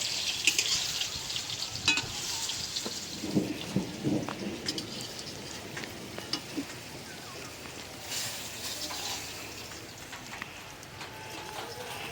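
Light rain patters steadily outdoors near a pond at the start of a shower, a soft continuous hiss with a few louder drips and knocks early on, fading slightly over time.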